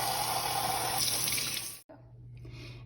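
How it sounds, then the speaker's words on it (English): Plain hot tap water runs steadily over rocks being scrubbed clean in a sink, a close rushing stream that cuts off abruptly, then turns into a quieter, thinner trickle. "Do not use soap as you scrub them, just plain hot water"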